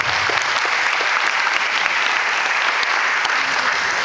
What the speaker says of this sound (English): Round of applause to all of you kids